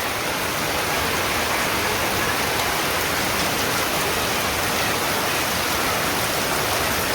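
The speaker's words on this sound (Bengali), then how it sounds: "তো মোটামুটি ভালো বৃষ্টি হইতেছে।" Steady rain pours down on a village in the afternoon, a dense, even hiss that stays loud and unbroken throughout.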